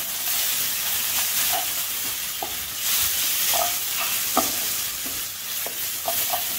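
Ginger, garlic and green chili paste frying in clarified butter in a pan, a constant close sizzle with occasional spatter pops and stirring scrapes, no talk.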